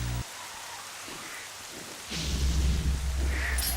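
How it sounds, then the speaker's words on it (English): Rain ambience from the video game The Legend of Zelda: Twilight Princess, a steady hiss of falling rain that swells louder midway with a deep thundery rumble underneath, no music or talk. "No music, just the sounds of rain"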